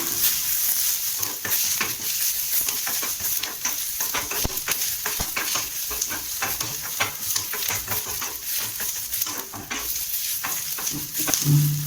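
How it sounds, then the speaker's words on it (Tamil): Onions sauté in a pan on low heat for tomato chutney, giving a steady sizzle broken by frequent scraping and stirring clicks, close and moderately loud, with no speech. "இப்போ ஆனியன் வதங்கியாச்சு"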